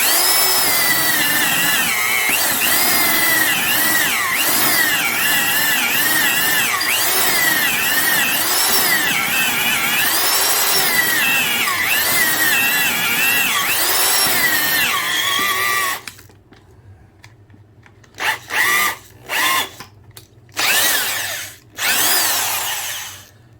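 A Skil Xtra-Tool triple-mode hammer drill, geared down to 800 RPM, runs loudly and continuously with a grinding, wavering whine, then stops and is triggered again in several short bursts separated by silence.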